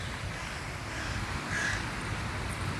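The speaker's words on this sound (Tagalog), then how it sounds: "Uwak. May uwak." Outdoors in wind, a single faint crow caw sounds once from a distance over a steady rush of wind and surf-like noise.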